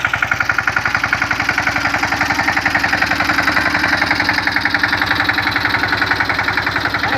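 A tractor engine idles and runs steadily while spraying pesticide in a mango orchard, a close, loud, rhythmic diesel chug with a regular knocking pulse throughout and no talking.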